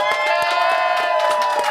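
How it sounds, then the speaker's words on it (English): A television studio audience cheers and claps for a guest being introduced, a dense steady roar of crowd voices with bursts of clapping, loud and close throughout. "Please, everyone, give a round of applause to Marissa Abella."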